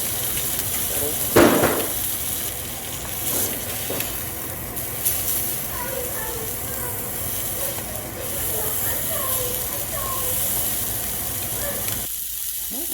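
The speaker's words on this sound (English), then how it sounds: "The jalapenos are getting a nice roast on them" Jalapeños roast on a grill with a steady hissing sizzle and scattered small crackles and pops, moderately loud and continuous, while a person speaks briefly near the end.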